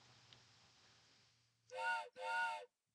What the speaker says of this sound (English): The train whistle that has a lot of extra time at the end of it.